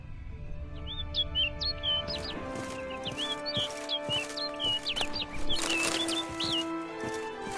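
Repeated chirping bird calls in Witcher Blood and Wine, bright short whistled phrases in quick series over a soft, sustained musical backdrop.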